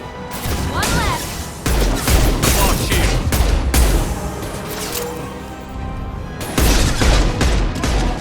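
Bursts of gunfire from the Mass Effect 2 video game: loud rapid volleys and heavy impacts that come in repeated waves over several seconds, with a few brief gaps.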